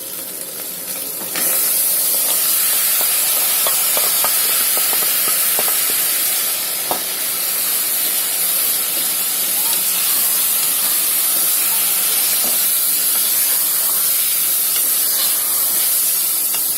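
Marinated Chettinad chicken masala hits a hot pan after a quiet second, bursting into a loud, continuous hissing sizzle with faint clinks of stirring.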